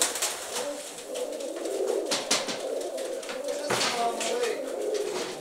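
Tumbler pigeons coo steadily in a loft, a continuous layered murmur of soft throaty calls with occasional wing flutters, close by and fairly loud.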